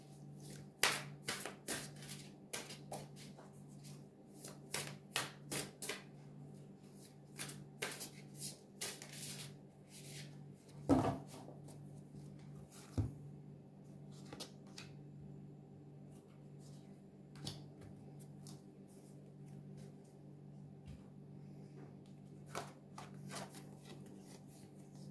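Tarot cards are shuffled and drawn by hand close up, giving repeated dry riffling and slapping bursts in uneven clusters, with quieter stretches of light handling between them.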